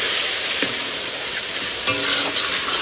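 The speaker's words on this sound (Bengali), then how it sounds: "টমেটোটাও দিয়ে দিই। সুন্দর করে কষাও" Tomatoes for a chicken curry sizzle steadily in a hot pan, with a few sharp spoon scrapes and stirring clacks breaking through the constant frying hiss.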